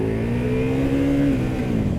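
A 2025 Indian Scout Bobber cruiser motorcycle accelerates hard, its engine note climbing in a steady rising drone that stays loud and close throughout, with no talking.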